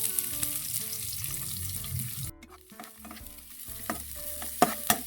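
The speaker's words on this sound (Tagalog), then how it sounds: "manggigisa tayo. Kay mantika. Bawang sa sibuyas." Garlic and onion sautéing in hot oil, with a steady sizzle, a break near the middle, and a spoon scraping and stirring the pan at close range; no talking.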